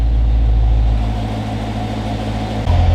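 A Corvette C7 V8 fitted with a K&N air filter idles close by with a loud, steady, low rumble that eases slightly after the first second, then firms up again near the end, with no talk.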